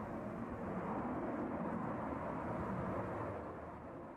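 Sukhoi Su-57 Felon fighter jet on its takeoff roll at the Zhuhai Airshow, a loud, steady broadband engine roar heard from a distance that fades slightly at the end.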